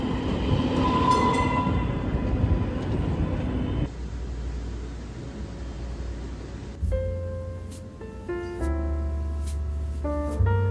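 A subway train rolls into an outdoor platform in the United States with a loud rumbling roar that eases off, then a steady electric hum and a series of tonal electronic chimes as it stops.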